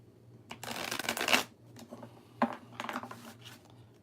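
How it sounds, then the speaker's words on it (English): A deck of tarot cards being shuffled up close: a long riffling burst, then a sharp snap and a few shorter riffles. "As I shuffle, shuffle, shuffle."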